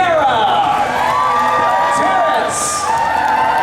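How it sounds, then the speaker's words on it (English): An audience at the Fear Factor Live stage show at Universal Studios Orlando cheers and whoops loudly, with shrill cheering voices rising and falling throughout and some clapping. "All right, audience, keep your applause going."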